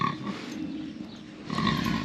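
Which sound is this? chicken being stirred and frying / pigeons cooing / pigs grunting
pigs grunting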